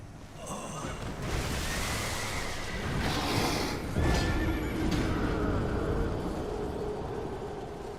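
A horse whinnying in the video game Elden Ring, with a loud drawn-out neigh amid hoofbeats and whooshing game effects, dense and continuous throughout.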